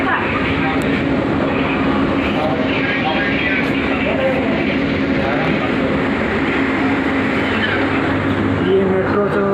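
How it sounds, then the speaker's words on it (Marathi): Metro train running on a curved elevated track, a steady, loud rumble and rush of wheels with faint squeals, heard from on board. "हे असं मेट्रो अशी गोल फिरून जाते."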